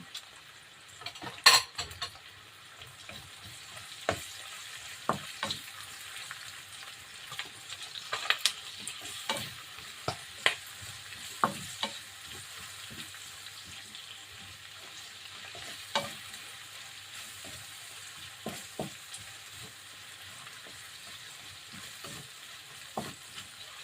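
Red onions fry in a pan beside meat for an Ilocano igado, a steady close sizzle broken by repeated spatula stirs and clinks of utensil on metal, with no voices.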